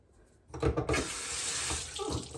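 Water gushing from a tap being set to lukewarm, starting after a brief quiet moment and then a steady loud hiss, close by, with no talking.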